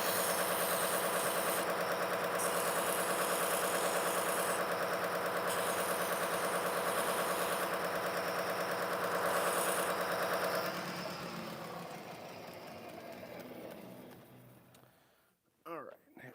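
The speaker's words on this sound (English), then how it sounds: "I'm just going to use the Scotch-Brite belt to remove those burrs" Scotch-Brite belt on a belt grinder removing drilling burrs from metal in a shop, a loud steady whirring drone that runs for about ten seconds, then thins and fades to near silence.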